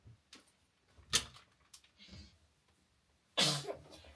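A few soft coughs and throat noises come first, then one sharp, loud sneeze bursts out near the end in a quiet room.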